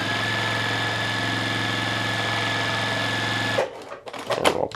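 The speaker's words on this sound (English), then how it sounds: "We're going to stitch that on." A sewing machine stitches a fabric strip onto a hexagon log cabin quilt block with a steady, fast mechanical whir. The motor then stops abruptly, leaving brief handling clatter.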